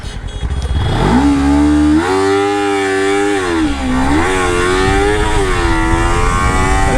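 A Kawasaki Ninja 300 launches hard from 5000 RPM, its engine note climbing steeply into a loud, sustained high-revving pull with small shifts in pitch as it accelerates away, close up and without talk.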